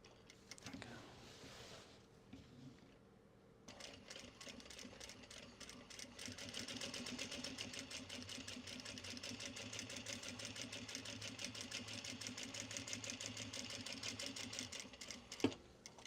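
A sewing machine top stitching fabric while prepping obi for upcycling into totes, running in a fast, steady mechanical rattle after a brief pause, close and continuous to the end.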